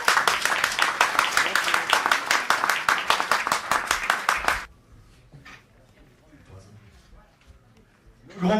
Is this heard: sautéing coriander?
no